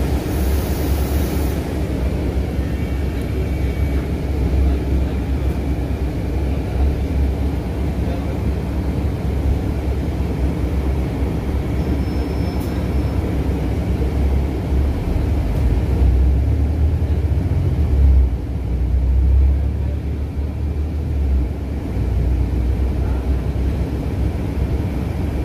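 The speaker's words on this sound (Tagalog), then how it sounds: "Ayan, may dumadaan na train." A train rolls along a railway in Dubai, a steady broadband rumble with low-frequency swells that grow heavier toward the end, heard outdoors at moderate distance with no talk.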